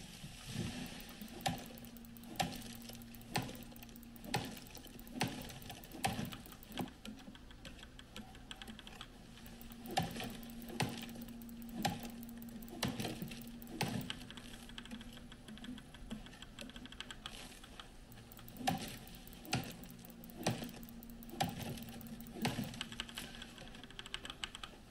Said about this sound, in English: chopping up them logs. Like a fucking lumberjack